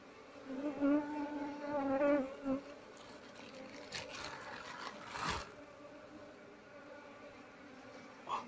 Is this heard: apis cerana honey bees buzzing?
yes